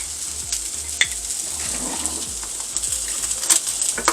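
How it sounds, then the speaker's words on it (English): Butter and garlic sizzle in a hot pan with a continuous crackling hiss, close and fairly loud, with a few light clicks and taps against the pan and no talking. "let the butter melt down a little bit before I give this a stir"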